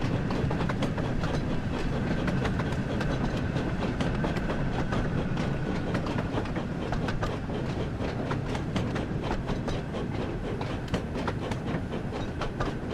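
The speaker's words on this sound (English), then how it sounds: "This is what it's like in an actual train car." Steady rhythmic clickety-clack of wheels inside a moving railway car, with a constant broadband rumble and repeated sharp rail-joint clicks running throughout, loud and close with no talking.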